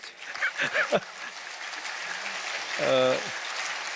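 Applause from a congregation during a church lecture at a national elders' retreat rustles steadily at moderate volume, with a voice speaking over it at the start and again briefly near the end.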